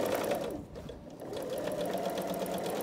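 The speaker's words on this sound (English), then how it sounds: "then we're gonna sew them together" A sewing machine runs steadily, stitching printed fabric pieces together with a continuous fast mechanical whir and rapid needle ticking throughout.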